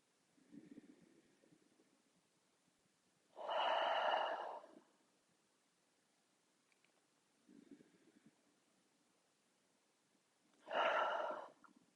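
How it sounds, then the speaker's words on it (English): Slow, deep breaths during yoga relaxation: two long, strong exhales through the nose, each about a second and a half, separated by quieter inhales, close and intimate in a hushed room. "inhale through your nose. And exhale, sigh your breath away."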